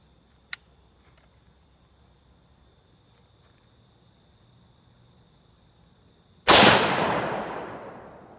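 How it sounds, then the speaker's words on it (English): A single loud 30-06 rifle gunshot booms after several quiet seconds of crickets and faint background, the blast decaying into a lingering outdoor echo. "This is my first time shooting a 30-06."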